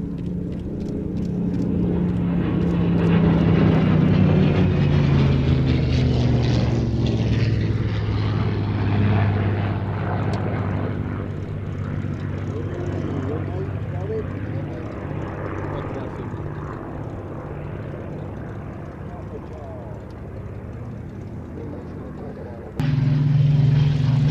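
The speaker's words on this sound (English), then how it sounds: "See there the P-38 weaving on finals there, just extending his ground track to enable those Spitfires to get airborne" A P-38 propeller fighter flies past at an airshow, its engine drone swelling loud and steady overhead then easing off slightly, with a continuous low hum throughout and a brief jump in level near the end.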